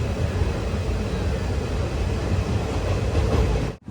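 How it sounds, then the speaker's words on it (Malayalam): A train rolls into a railway station near Kayamkulam junction in Kerala. Its steady, loud rumbling roar fills the scene before cutting off abruptly. "ഇവിടെ ഇപ്പോൾ ഒരു ട്രെയിൻ വരാനുണ്ട്."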